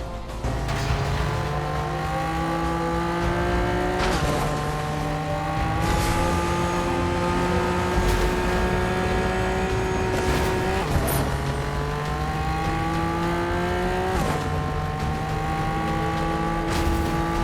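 A Fortnite car engine drones continuously, rising in pitch through repeated gear changes with brief dips, steady and moderately loud with no talking.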